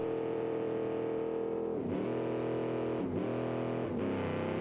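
In the BeamNG driving game, a car engine screams at high revs during burnouts, a loud sustained drone that dips in pitch briefly three times as the throttle lifts and then climbs again.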